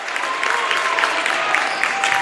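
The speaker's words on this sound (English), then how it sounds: "That's got this limited capacity crowd clapping their hands." Limited-capacity basketball crowd at a Goffstown–Bedford high school game claps steadily after a made lay-in, a dense, continuous patter of hands filling the gym throughout.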